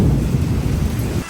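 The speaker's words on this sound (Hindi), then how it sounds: "पर बारिश शुरू हो गई भाई।" A thunderstorm breaks as rain begins to fall outdoors: a loud, low rumbling roar with a hiss of rain, steady and close for a moment before it eases.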